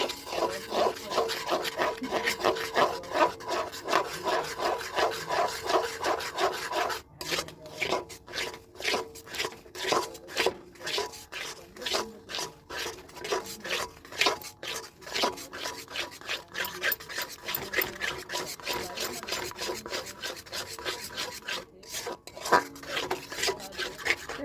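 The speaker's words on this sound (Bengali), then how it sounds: "চিনিটাকে হালকা ক্যারামেল করে নেব" Sugar caramelizing in a pan while being stirred, giving a rhythmic rasping scrape of repeated strokes, moderately quiet and close, with no voices.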